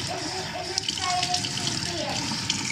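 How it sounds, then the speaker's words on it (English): Water pours from a tap into a Baby Alive doll's bottle, a steady rushing splash with some light background chatter and a voice nearby. "Let's throw some water in here."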